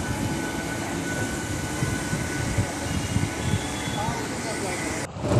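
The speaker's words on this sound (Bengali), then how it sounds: "এই ট্রেনটা এসেছি, ট্রেনটা ছেড়ে যাচ্ছে এখন।" Train pulling out of Bandel station in West Bengal: a loud, close rumble and rattle of wheels and carriages rolls on steadily, with station noise and a voice speaking over it, before a sudden cut at the end.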